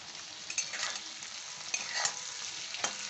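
Onions fry in a pan with a steady high sizzle, broken by a few short scraping stirs, close and alone with no voices.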